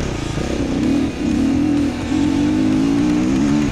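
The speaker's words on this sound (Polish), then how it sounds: "Kolejny motor na horyzoncie." An enduro rally motorcycle engine drones loudly close by, its pitch rising and dipping as it revs, then holding a steady higher whine.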